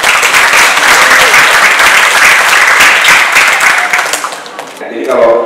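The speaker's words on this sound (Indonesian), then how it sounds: "Tepuk tangan dulu terus semua" Students applaud at a school journalism seminar, a loud, full burst of clapping that dips briefly near the end before swelling back.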